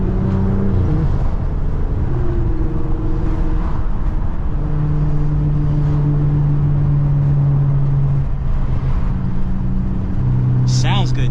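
A 400 hp BMW F10 engine rumbles at low, steady revs in snow, with small pitch shifts as it idles; a voice talks over it.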